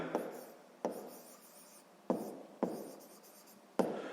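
Pen or pencil writing out a sixth-grade math problem solution on paper, five distinct scratchy stroke bursts with quieter scribbling between them, close and clear, no talking.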